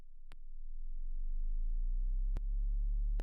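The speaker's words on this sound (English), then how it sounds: "sub drop" A reverse sub drop in an electronic music track swells as a deep, pure low tone that rises slowly and steadily, with sharp clicks at the start, middle and end, and no voices.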